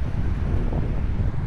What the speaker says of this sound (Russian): Какой ветер сильный.